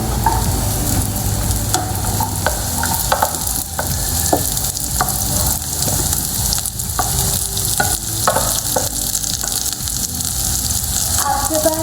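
Vegetables fry in olive oil in a pan for vegetable fried rice, a loud, continuous close-up sizzle with crackles and stirring scrapes throughout.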